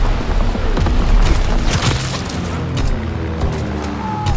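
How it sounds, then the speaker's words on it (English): A huge, close airstrike explosion in Call of Duty WWII, a deep rumbling blast with crackling debris that slowly fades over several seconds, with no talking. "I just killed myself with my own airstrike."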